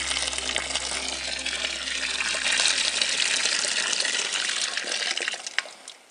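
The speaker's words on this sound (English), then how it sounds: "we're going to pour 3 litres of boiling hot water into the fermenter" Boiling water pours from a kettle into a home-brew fermenter, a steady, loud gushing stream that runs continuously and thins slightly toward the end, with no voices.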